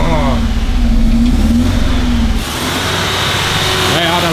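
Car engine revving after a timing belt repair in a workshop, a loud rising and falling rev with harmonic whine, speech heard over it before the engine settles to a lower idle.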